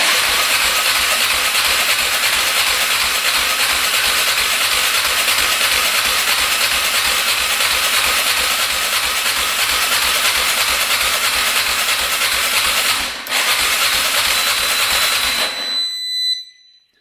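A Honda ATV engine cranks with the throttle held open, a loud, continuous mechanical whir pulsing in a fast, even rhythm for about fifteen seconds before it abruptly stops.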